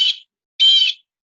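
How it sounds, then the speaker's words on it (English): Two short electronic chirps from a toy blue jay bird call, high and whistly, separated by a brief silence, the second one longer. "this blue jay is supposed to make a sound"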